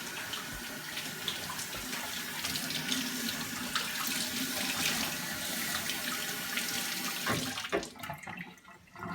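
A kitchen sink tap runs steadily as a cleaning cloth is soaked under the stream, a continuous close splashing rush that cuts off near the end, leaving a few drips and quieter handling.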